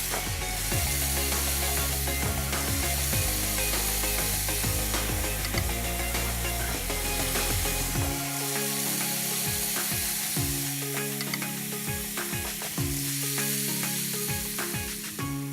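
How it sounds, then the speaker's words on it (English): Sriracha tofu skewers sizzle on a grill with a steady, bright crackle that runs under loud background music the whole time. "We just want to heat, get some nice grill marks on there."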